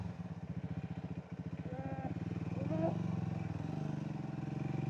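A Triumph Scrambler 400X motorcycle on an off-road hill track between Kathmandu and Gufa Dada idles with a close, rhythmic thumping beat that swells slightly partway through, with faint voices in the background.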